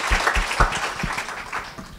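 Brief, moderately loud burst of audience clapping at a women's board leadership cohort launch event, a patter of hands fading after about two seconds.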